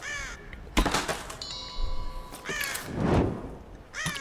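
Ravens in the video game Tomb Raider give several harsh, rasping caws spread across a few seconds, mixed with game ambience and a thump, fairly close and loud without speech.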